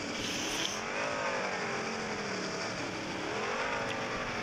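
A 2x2 car in a video game drives along with a steady engine drone and wavering pitch as it accelerates and eases off, loud and continuous with no voices.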